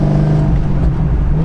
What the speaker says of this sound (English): your car sounds so good